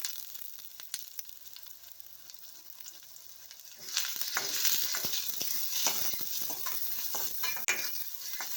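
Small onions and curry leaves sauté in a pan for sambar: quiet stirring scrapes at first, then a louder, sustained sizzle with spoon clinks and crackles, close up and without talk.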